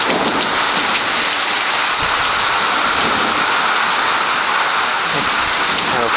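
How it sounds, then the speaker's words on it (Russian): Heavy, steady rain pours down hard and loud, with a low rumble of thunder rolling beneath the downpour. "О, гроза."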